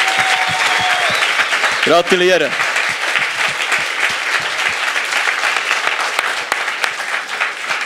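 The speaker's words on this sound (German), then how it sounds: "Und einen ganz grossen Applaus geht an Mehmet!" A crowd at a science slam in Freiburg applauds the winner of the first block, a loud, continuous burst of clapping throughout, with a brief spoken word rising over it early on.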